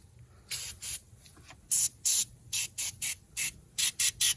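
Aerosol battery cleaner sprayed from a can onto the battery terminals of a 1993 Toyota Camry, a series of about a dozen short, close, loud hissing bursts with brief gaps.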